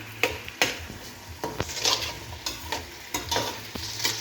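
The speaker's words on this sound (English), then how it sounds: "And then we're going to give this a good stir." Crushed garlic frying in a pot for chicken biryani, stirred with a utensil: soft sizzling under a series of scraping, clinking stir strokes at an uneven rhythm, close by.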